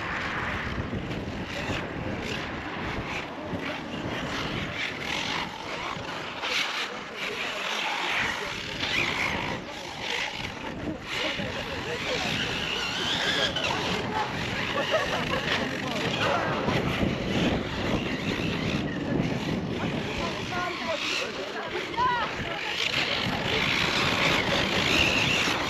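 A Hyper 10TT electric scooter on a test ride, with a steady rushing roar of wind and motor that builds slightly over time. Someone talks intermittently over the noise.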